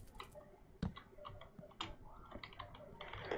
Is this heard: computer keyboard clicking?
yes